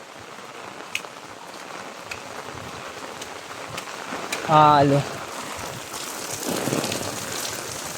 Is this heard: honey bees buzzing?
no